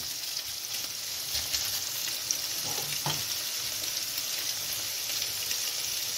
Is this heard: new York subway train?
no